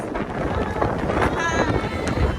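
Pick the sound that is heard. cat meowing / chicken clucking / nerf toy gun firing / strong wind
strong wind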